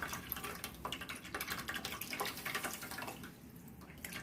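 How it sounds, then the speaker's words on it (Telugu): Tamarind water poured through a strainer into a pan of fish curry gives a steady, close trickling and splashing of liquid for a few seconds, with no talking. "దాన్ని ఇలా స్ట్రైనర్ సహాయంతో ఉడబెట్టుకొని పోసుకోవాలి"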